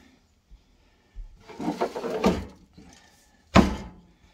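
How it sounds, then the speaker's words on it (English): A pull-out drawer in the kitchen of a 2023 Rockwood 1910ESP RV slides and thuds, close and fairly loud. A rolling slide is followed by a sharp knock, with no speech. "This one has a pull-out drawer."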